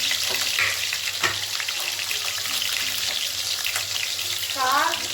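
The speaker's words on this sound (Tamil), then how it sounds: "இந்த வெங்காயமும் பூண்டும் போட்டுடலாம் வெங்காயம் பூண்டு இஞ்சி" Onion, garlic and ginger frying in a pan for mint chutney, a close, steady crackling sizzle with occasional stirring scrapes and a brief faint voice near the end.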